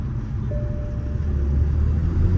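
A rebuilt Toyota Supra engine rumbles steadily from inside the car, a low droning roar that swells slightly louder as it accelerates, with no voices.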